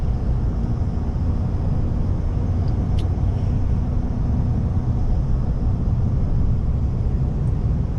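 Steady low road rumble and engine drone from a 2024 Chevy Silverado ZR2 diesel pickup with Multimatic suspension cruising on a road, a constant close hum with no talk.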